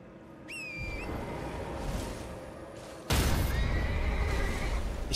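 A horse whinnies loudly near the start in the video game Elden Ring: Shadow of the Erdtree, a descending shrill call, then a second whinny follows over a louder rumbling game backdrop.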